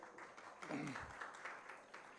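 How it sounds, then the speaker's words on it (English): Audience applause in a conference hall, a brief, fairly quiet spell of scattered clapping with a voice briefly rising over it. "thank you for the applause, which has come naturally from all of you without my request"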